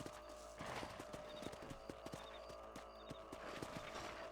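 Horse hooves clip-clopping in Red Dead Redemption, a steady run of close, even hoofbeats lasting the whole stretch over a low ambient game backdrop, with a brief whinny-like tone partway through.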